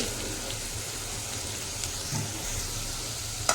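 Bottle gourd curry frying gently in a pan covered with a plate over a low gas flame, a soft, steady sizzle with faint crackles and no voices.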